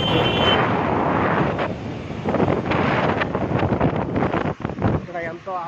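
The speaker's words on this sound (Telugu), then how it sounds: "ఇక్కడ ఎంతో ఆహ్లాదభరితంగా ఉన్నటువంటి వాతావరణం, చల్లని గాలి వస్తుంది." Cool wind blowing at the Krishna river ghat in Vijayawada, a steady roar of gusts buffeting the microphone throughout, close and loud, with faint lapping water and a voice partly buried underneath.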